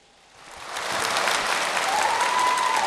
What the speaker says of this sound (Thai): ปรบมือดังๆให้คุณชายอิสระชนครับพี่น้อง